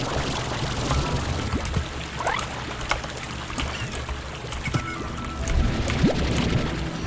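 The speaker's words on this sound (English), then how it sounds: "I love the sound water slimes make" Watery sloshing and gurgling from water slimes in the game Slime Rancher, with soft trickling, pouring splashes and occasional bubbly blips, moderately close and swelling toward the end.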